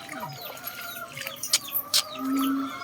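Scattered clucks and short bird calls from a few chickens caught in a sudden flood, with brief sharp bursts and a low sustained tone near the end.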